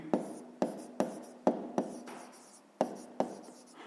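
Pen writing numbers by hand on paper during a fifth-grade math exercise: a run of short scratchy strokes with sharp onsets, about eight quick marks spaced irregularly, close and fairly quiet, with no talk.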